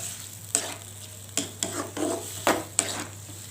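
Clams stirred in oyster sauce and sweet soy sauce in a frying pan, with a series of distinct scraping strokes over a steady low sizzle, heard up close with no talking.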